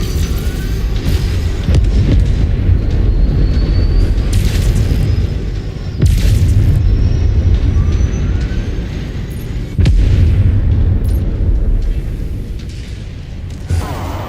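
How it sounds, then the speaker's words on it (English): Heavy weapon fire from a PPCX in a video game: repeated deep booming blasts and explosive bursts, loud and dense, with thuds landing around 2, 6 and 10 seconds and a constant rumbling din throughout. "that weapon this dude's firing is a PPCX. It's a brutal weapon."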